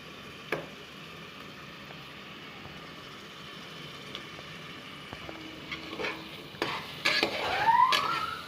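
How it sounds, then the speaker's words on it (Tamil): Scraping and clinking of a spoon against a pot as mutton is stirred with masala, quiet at first, growing busier and louder toward the end. "நல்லா மசாலாவோட நல்லா பரட்டி விட்டுருங்க"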